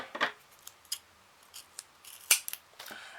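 Scissors snip paper for an origami card in a few sharp, separate cuts, one louder crisp snip in the middle among softer clicks and rustles, close and quiet, with no one talking.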